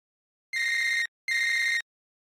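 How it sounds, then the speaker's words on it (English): Two identical electronic telephone rings sound in quick succession, each a bright, steady trilling tone about half a second long with a short gap between, clean and alone against silence. "A phone's abrupt ringtone cuts through the airwaves"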